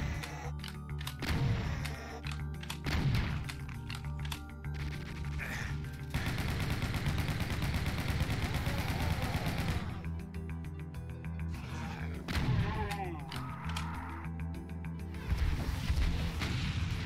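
Chaingunner enemies firing in Doom 2, rapid sustained bursts of automatic gunfire mixed with explosive booms and game action, loud and continuous with short pauses between volleys.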